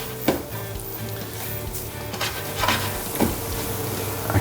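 Onions and peri peri spice frying in a pot, a steady close sizzle with stirring scrapes and a few clinks of utensil against the pot, no talking.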